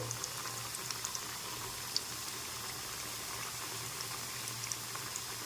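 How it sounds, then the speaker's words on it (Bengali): Gujiya sweets deep-frying in hot oil over a low flame, a steady soft bubbling fizz with faint scattered pops and a low hum underneath, no talk. "তার আগেই আমি গুজিয়াগুলো দিয়ে ভেজে নেব ফ্লেমটাকে কম করে ভুজিয়াগুলো ভাজতে হবে"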